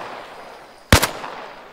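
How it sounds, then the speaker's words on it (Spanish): A single sharp, loud synthetic gunshot crack fired into water in the video game ArmA Reforger, with a quick splashy echo, over a faint steady background hum. "Super cutre el disparo al agua, ¿eh?"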